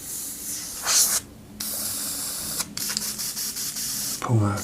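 Short bursts of airbrush spraying paint, a fine airy hiss starting and stopping several times, close up, with a brief voice near the end.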